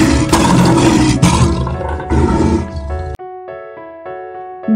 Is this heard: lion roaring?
yes